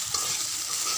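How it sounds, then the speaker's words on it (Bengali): A spoon tossing vegetables and shrimp coated in spices through a hot pan, a short continuous sizzling hiss with soft stirring scrapes close by. "ভালো করে সবজির মধ্যে মাখিয়ে নিতে হবে চামচ দিয়ে।"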